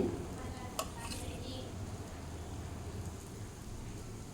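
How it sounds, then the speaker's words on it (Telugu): Raw plantain slices shallow-frying in oil on a flat pan, a steady low sizzle throughout with a sharp tap of a utensil near the start and faint scraping, close and quiet. "ఇలాగా పెనం మీద ఆయిల్ వేసుకొని ఇలా అన్నీ వేసుకొని బాగా కాల్చుకోవాలి"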